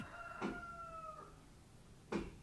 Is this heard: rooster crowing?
yes